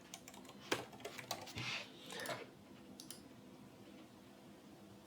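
Keyboard typing in short bursts while editing code, brief clusters of clicky keystrokes at close range over a faint background hum, then thinning to a few isolated taps.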